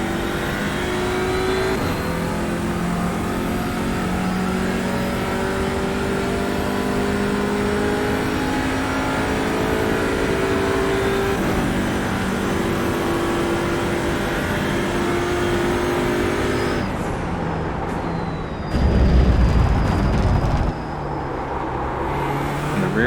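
An Audi RS3 TCR touring car engine in iRacing, lapping the COTA circuit, holds a loud, steady, rising drone that climbs through the gears. The drone cuts off near the end into a brief louder low rumble.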